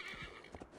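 A horse neighs and whinnies in Assassin's Creed Valhalla, a short close whinny over faint hoof clip-clop and game ambience, with no talking.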